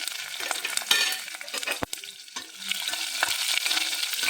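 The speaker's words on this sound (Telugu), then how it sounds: "ఇప్పుడు ఈ నూనె వేడైంది, దీంట్లో జీలకర్ర, పచ్చిమిరపకాయలు, కరివేపాకు వేసేసుకున్నాం." Cumin, green chilies and curry leaves fry in hot oil, giving a close, continuous crackling sizzle with stirring scrapes and one sharp spatter partway through, and no talking.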